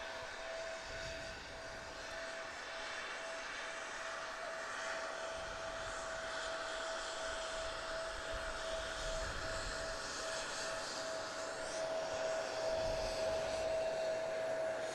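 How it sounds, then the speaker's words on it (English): A Lufthansa CRJ jet passes at Manchester Airport, giving a steady broadband engine roar with a high whine that builds slightly toward the end, heard from a moderate distance with no talking. "I'll give you a little bit more information on the aircraft in front of us, just when it's passed."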